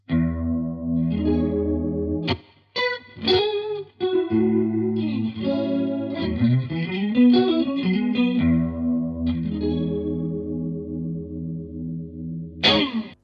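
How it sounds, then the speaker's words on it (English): Guitar notes and chords through a Zander Circuitry Junipero pedal's combined vibrato and tremolo, wobbling in pitch and pulsing in volume, a warbling, Leslie-like rotating-speaker shimmer with some grit, played alone for several bars. "we've got a combination of vibrato and tremolo."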